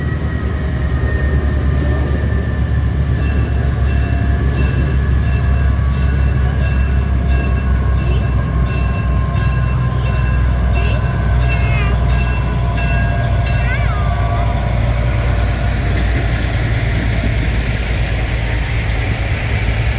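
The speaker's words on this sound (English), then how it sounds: "grab a quick shot of the locomotive reattaching to the train to ready for our trip back" On the Wannamaker, Kempton & Southern railroad, a locomotive reattaches to its train: a loud idling diesel rumble runs throughout, with metallic squeals and clanks of coupling rising over the steady engine drone.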